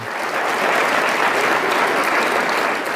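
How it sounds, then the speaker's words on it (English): Loud, dense audience applause greeting actor Idris Elba at a live show, a thick continuous wash of many hands clapping for the full stretch without talk on top. "Everybody big round of applause for Idris Elba."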